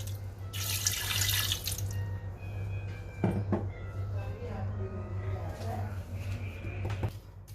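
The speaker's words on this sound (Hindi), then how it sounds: "फिर इसमें हम पानी ऐड करेंगे।" Water poured into a pot of meat while cooking shaljum gosht, a steady splashing pour running through most of the clip under a constant low hum, with a few clinks near the middle and end.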